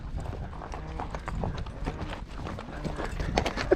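A ranch horse clip-clops along in an uneven run of hoof strikes on hard ground, close by, with a faint voice now and then.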